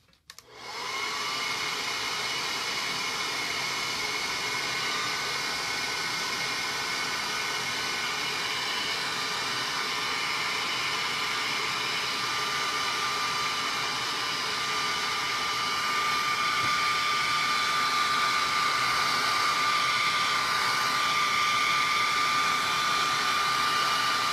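A hair dryer runs continuously close by, drying decoupage work with a loud, steady whirring blow that starts abruptly and holds an even high whine throughout.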